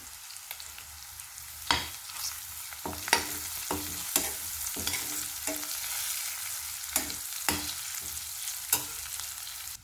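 Curry leaves and turmeric sizzle steadily in hot oil while okra charu is being made, with a spoon stirring and scraping the pan in sharp clinks at irregular intervals.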